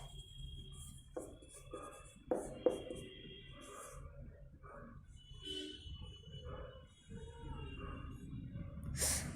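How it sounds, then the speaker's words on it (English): Pen writing on paper while working through a class 11 maths functions problem, with scattered scratching strokes and small taps over a low background hum, fairly close and without speech. "Let me just write it in the most simplest way."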